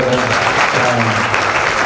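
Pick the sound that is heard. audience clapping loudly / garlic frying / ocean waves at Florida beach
audience clapping loudly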